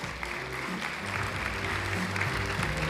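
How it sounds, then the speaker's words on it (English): An audience at a teacher-of-the-year semifinalist award ceremony applauds steadily, a dense wash of claps under a sustained low tone from music or the room. "Let's give them a big round of applause."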